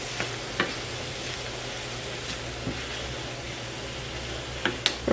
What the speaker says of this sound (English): Stir in.